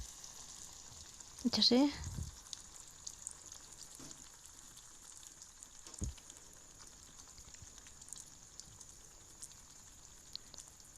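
Suji pitha batter frying in hot refined oil gives a steady, faint sizzle throughout, with a short burst of a voice speaking near the start and a few small knocks.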